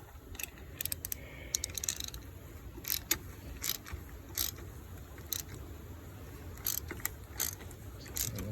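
A socket wrench ratchets in short bursts of quick clicks while the drain plug is tightened during an oil change on a 2017 GMC Terrain, close and fairly faint, with pauses and light scrapes between strokes.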